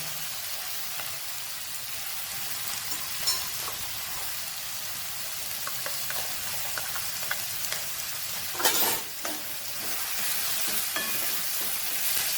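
Onion, carrot and potato sautéing in a pan for rava kichadi, a soft steady sizzle with occasional scrapes and a brief louder clatter of the spoon, close up and fairly quiet, no voices.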